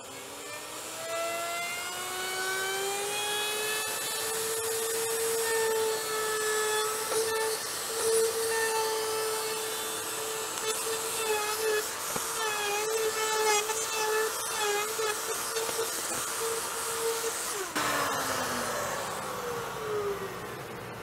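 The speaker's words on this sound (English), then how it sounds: "Next thing we're going to do is run this through the router table and get an edge on it." A router on a router table cuts an edge along an epoxy resin and wood paddle board, a steady high whine with strong harmonics that holds for about seventeen seconds, then drops in pitch and winds down near the end, with no voices.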